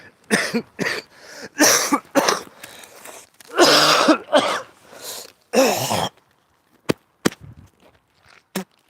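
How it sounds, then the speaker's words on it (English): A man coughs hard and clears phlegm from his throat in a string of loud, harsh, close bursts, followed by a few short, sharp throat clicks and hacks trailing off after a pause. "I gotta get that phlegm shit out though. That cough is nothing."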